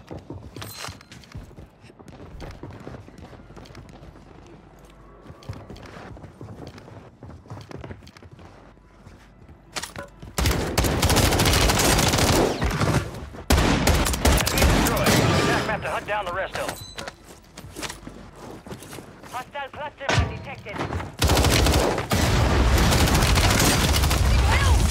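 Automatic rifle fire from a DG-58 LSW in a multiplayer shooter game, quiet at first, then loud sustained bursts filling the second half, with speech-like game chatter mixed in.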